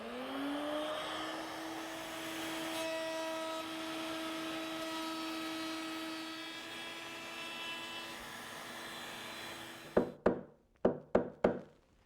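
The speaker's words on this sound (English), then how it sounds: "we're going to go ahead and use the radius bit and go all the way around the frame, round those over, and soften that edge" A router fitted with a radius bit rounds over the edges of a wooden blanket chest frame, giving a loud steady whine for about ten seconds, then shuts off and is followed by several sharp knocks.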